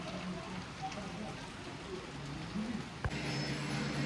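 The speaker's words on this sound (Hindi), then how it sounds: "बारिश हल्की हो गई है थोड़ी" Light rain falls steadily at a viewpoint in Palampur, Himachal Pradesh, a soft continuous patter with faint distant bird calls and a sharp knock near the end.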